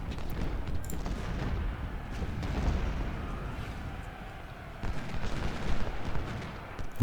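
Cannon and rifle fire in the Civil War strategy video game Ultimate General: Civil War, heard as a continuous low rumble of distant volleys and booms with scattered crackling shots, steady and moderately loud throughout.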